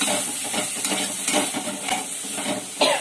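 A slit green chili going into a pan of frying jute leaves (pat shak) and being stirred, a steady hot sizzle with repeated scraping strokes of the spatula, close and continuous, no voices.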